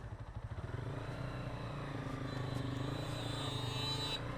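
A Lifan KPT 4V motorcycle runs on a test ride along Cox's Bazar Marine Drive, its engine a steady droning hum that swells and rises slightly in pitch as it pulls.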